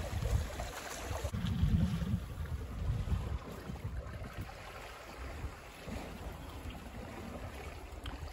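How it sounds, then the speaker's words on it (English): A sailboat runs downwind at about 5 to 6 knots under sheet-to-tiller self-steering, with a steady rush of water and wind buffeting, heavier at first and then settling into an even wash, with no talk. "Still sailing downwind"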